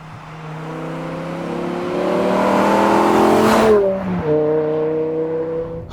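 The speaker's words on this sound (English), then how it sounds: "500 horsepower courtesy of a naturally aspirated V10." A BMW naturally aspirated V10 engine revs hard, its pitch climbing steadily to a loud peak, then dropping sharply before settling into a high, steady whine, close and dominant with no talk.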